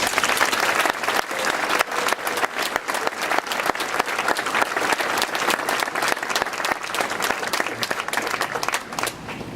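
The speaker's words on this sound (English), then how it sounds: "Let's just give them another round of applause, please." Applause from a crowd at the dedication ceremony for a swimming facility. Sharp, dense clapping continues steadily, loud and close, with no pause and no talking over it.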